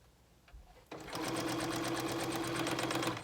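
A sewing machine stitches fabric along a side seam, starting after a soft bump and then running as a fast, even needle rattle with a steady motor hum, close and loud until it stops.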